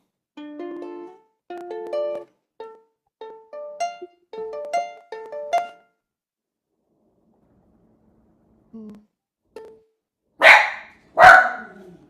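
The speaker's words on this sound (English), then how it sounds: "dog bark" Two sharp dog barks ring out in quick succession, loud and close, after a stretch of plucked guitar chords and a quiet gap.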